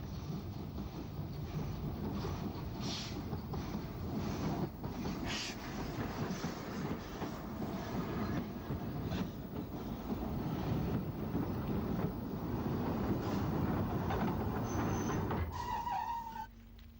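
Steam locomotive Whitwell coming off shed at St John's Road on the Isle of Wight railway, a steady broad rumble and chuffing heard from a bridge, with wind buffeting the microphone throughout and a faint high tone near the end.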